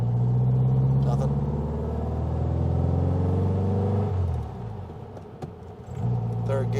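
A 1966 Volkswagen Beetle custom engine drones steadily while driving, the rumble easing and dropping around a gear shift before picking up again; close, loud, with no speech.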